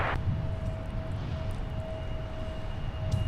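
An airliner takes off at Minneapolis–Saint Paul airport, its engines giving a steady, broad roar with a thin sustained whine, heard from a distance.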